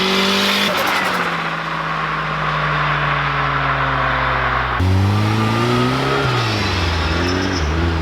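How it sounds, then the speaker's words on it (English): A boosted K20-engined Honda Civic revs hard on a dyno through a screamer pipe, a loud, close engine howl climbing through the revs, dropping back and surging again with rising and falling pitch sweeps. "Literally all you could hear there was just screamer"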